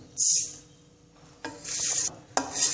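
Whole coriander seeds and panch phoron spices frying over low heat in a pan for green chili pickle, with bursts of stirring and scraping against the pan separated by quieter sizzling.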